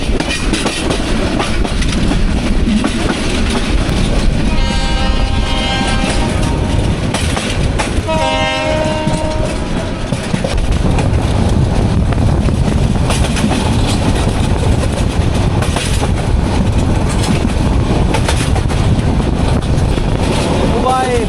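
The Kishoreganj Express runs along the Tongi–Bhairab–Akhaura line, a loud continuous rumble with clattering wheels, and its horn sounds in several sustained blasts partway through.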